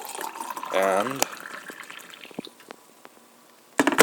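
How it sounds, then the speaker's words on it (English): Hot water poured into a cup holding Nestea original lemon iced tea mix, a steady filling gurgle with rising pitch heard up close under a brief spoken word, followed by quieter drips and small clinks. "And now you pour in the hot water"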